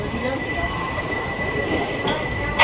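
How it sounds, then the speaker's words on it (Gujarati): A passenger train pulls out of Rajkot junction, its wheels running over the rails in a steady, loud rumbling roar with faint metallic squeal, heard continuously from on board. "તો રાજકોટથી ટ્રેન ઉપડી ગઈ છે"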